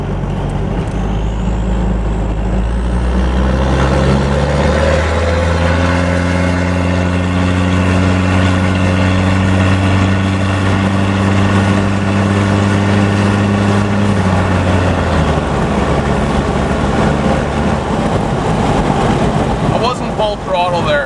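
A Toyota Hilux Surf SSR-X with a 3.0 diesel engine at full throttle, revs climbing steadily then easing off in a loud, close engine drone with rising tones, alone and continuous.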